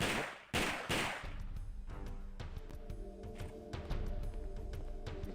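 Gunfire in the Tomb Raider video game as a guard is shot in the Louvre offices: a few sharp, loud shots near the start, then a busier spread of quieter bangs and clatter over game background noise.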